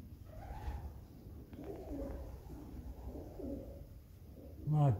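Pigeons coo softly inside an abandoned maltings building, their low murmuring calls repeating over a hushed, roomy background, with a sharper noise near the end.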